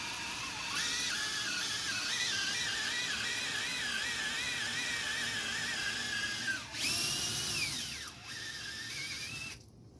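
A powerful electric drill bores out motorcycle handlebars, whining loudly and steadily with wavering pitch. The motor briefly revs up near the end before it cuts off, and no one talks.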